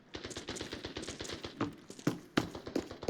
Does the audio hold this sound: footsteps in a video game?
yes